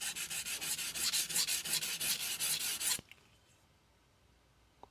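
A knife is sharpened on a 400 grit sintered diamond stone: about fifteen quick, rhythmic rasping strokes, close and bright, then an abrupt stop followed by near silence and a tiny click at the end.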